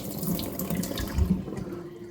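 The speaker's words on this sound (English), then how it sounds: "then we're going to drain the water from the long rice" Water draining from a microwave pressure cooker of chicken long rice, a steady close running and splashing wash into a sink lasting the whole stretch with no talk.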